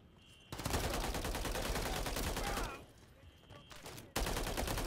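The Holger gun fires long rapid automatic bursts in the Modern Warfare III video game, loud and dense, with a short pause and then a fresh burst near the end.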